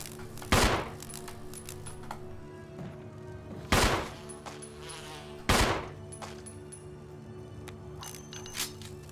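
A swarm of bees drones in a Resident Evil game, a faint steady hum beneath three loud, sharp bursts spread across the stretch.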